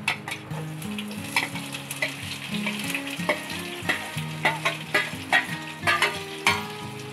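Onions frying in a pan with cumin and a pinch of asafoetida, producing a constant sizzle broken by rhythmic scraping and clattering stirs, with repeated spatula strokes close by.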